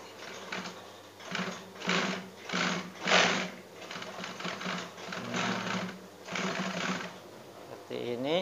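Sewing machine stitching a black leather strap for a bag, running in repeated bursts of rapid mechanical chatter with short pauses between runs, close and moderately loud.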